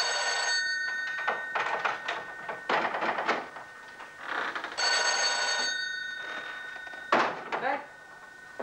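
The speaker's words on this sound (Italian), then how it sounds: "Nessuno che vada a rispondere al telefono" An indoor telephone bell rings in repeated bursts with short gaps between them, fairly loud and near, while people talk over and between the rings.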